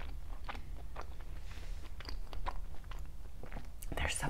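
Close, wet bites and chewing of fresh Florida pink shrimp dipped in tequila cocktail sauce, with soft crunches spaced irregularly and a sharper crunchy burst toward the end.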